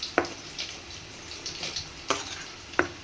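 Someone stirs coriander powder into onion masala frying in a pan for egg sambar, with a few sharp spatula scrapes spaced out over a faint, steady sizzle and no talking.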